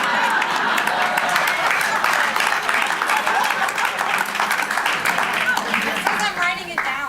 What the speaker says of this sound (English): I know that wasn't going to get a lot of applause